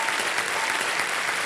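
A television quiz show studio audience breaks into a steady, even burst of applause, with dense clapping and no talk over it.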